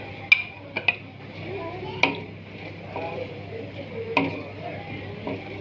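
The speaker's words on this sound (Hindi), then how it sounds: "अब हम इसमें प्याज डाल देंगे।" Sliced onions going into hot oil for a Pakistani chicken korma, a soft steady sizzle with sharp metallic clinks of a spoon stirring against the pot at irregular intervals, under occasional faint voice.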